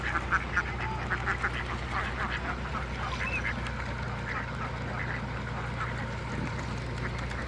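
Many ducks quack in a dense, continuous chorus outdoors in a haor wetland area beside mustard fields, with a steady low engine-like drone running underneath.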